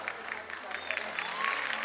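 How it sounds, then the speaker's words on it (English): An audience at a school award ceremony claps for gold medal winners, with brisk, continuous applause rising slightly in intensity over a low steady hum. "Let's give a huge round of applause."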